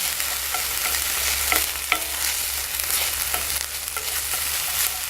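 Camping pasta ingredients cook in a pot over a camp stove, with a loud, steady sizzle, intermittent scraping and clinking stirs, and a constant low burner rumble underneath; no talking.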